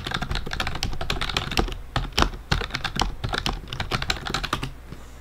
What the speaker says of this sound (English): What, you don't like my clickety-clack? I love my clicky-clicky keyboard.